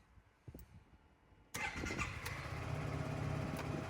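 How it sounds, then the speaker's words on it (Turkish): A Yamaha Xmax 250 scooter starting after a long idle period: a few faint clicks, then the electric starter catches at once and the engine settles into a close, steady idle. "Tek marşla tık diye aldı."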